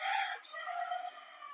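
Village hens and a rooster calling, a short crow-like cry followed by softer clucking, fairly near but quiet.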